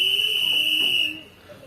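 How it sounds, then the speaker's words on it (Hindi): A railway guard at Namal station blows a single sustained shrill whistle lasting about a second, fairly loud and close, then it cuts off leaving quiet platform ambience. "गार्ड साहब ने सीटी पहले बजा दी।"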